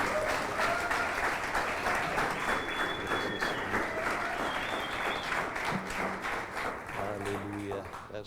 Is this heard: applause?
yes